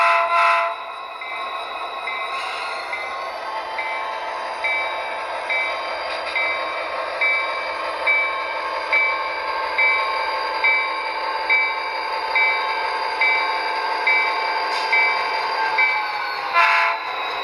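An Athearn Denver & Rio Grande Western SD40T-2 model locomotive plays its sound: a steady diesel engine drone with rhythmic pulsing, a horn blast at the start and another near the end, close and loud.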